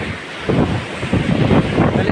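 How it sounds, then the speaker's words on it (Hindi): Strong wind by the sea, heard as loud, continuous microphone-buffeting roar with surging gusts and a wash like surf, no talk. "क्योंकि समुंदर के पास है ना, तो बहुत हवा चलता है"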